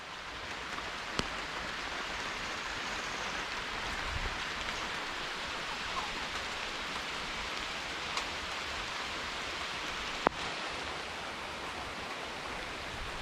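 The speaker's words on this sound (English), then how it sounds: "it began to rain." Steady, heavy rain pours down in a dense, continuous hiss over a rainforest, with a few sharper drips standing out now and then.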